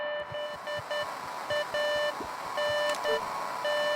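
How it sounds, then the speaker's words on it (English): A phone rings in the Beacon Pines video game with a repeating electronic beeping tone, bright bursts broken by short pauses, loud and alone. "Oh, Luca's phone."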